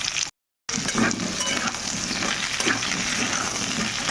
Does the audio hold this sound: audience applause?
no